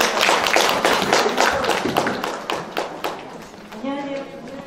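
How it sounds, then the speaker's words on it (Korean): Applause at a public hearing in a hall, many hands clapping in a dense, steady burst that gradually thins out, with a voice starting to speak near the end. "큰 박수 다시 한번 부탁드립니다."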